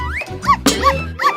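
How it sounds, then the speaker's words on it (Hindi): A toy-like puppet dog in a children's game gives a few quick, loud yips and barks in rhythm, over cheerful music with tonal sweeps. "ये पॉपेट कुत्ता है"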